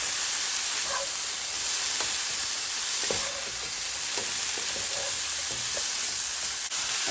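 Shrimp and broccoli stir-fried in a buttery pan, a loud continuous sizzling hiss with scattered soft clicks and scrapes of tossing, no voices.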